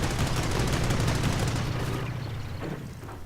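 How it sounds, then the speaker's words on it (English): Anti-tank gun and other gunfire in a World War II strategy video game, a dense rumbling barrage of shots and blasts that fades toward the end, with no talking. "Anti-tank gun gets off a good shot on the side of the Wirbelwind, which pulls out."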